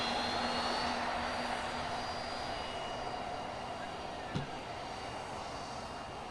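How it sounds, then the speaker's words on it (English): Qatar Airways Airbus A350-900 touching down at Manchester Airport, heard as a steady, fairly distant roar of jet engines that holds for several seconds, with a brief sharp bump partway through. "just touching down now is the 350-900 from Qatar Airways from Doha"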